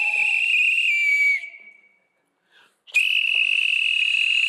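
A person whistles a long, shrill, sustained note, breaks off for about a second of silence, then resumes with another steady, clear tone, close and loud with no talking.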